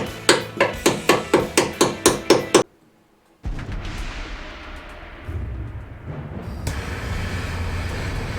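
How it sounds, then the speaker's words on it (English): Nine sharp metallic hammer blows on car brake line nuts in a quick even rhythm, then a brief silence followed by a rough scraping, grinding noise. "If in doubt, use a hammer."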